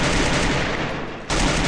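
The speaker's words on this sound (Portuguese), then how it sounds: "estão atirando em vocês aí" Dense gunfire in the mobile battle royale game Free Fire, a loud continuous burst of rapid shots that briefly thins before resuming at full intensity, with no voices.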